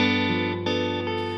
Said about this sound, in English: So the G dominant 7 could sound like this